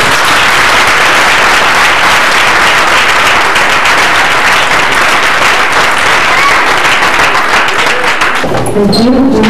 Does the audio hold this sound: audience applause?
yes